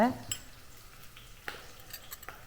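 Ground chilies sauté in a pan with curry leaves and green chilies, a soft sizzle under scattered clinks of a spoon stirring against the metal.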